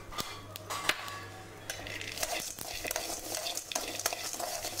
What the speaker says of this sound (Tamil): வறுத்த வேர்க்கடலையும் இது கூடயே போட்டு 2 வறு வறுத்துக்கலாம்.